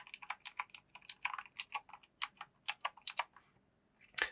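Typing on a Keychron K2 wireless mechanical keyboard: a steady run of crisp individual key clicks at about four per second, close and fairly quiet, ending in a slightly heavier double clack.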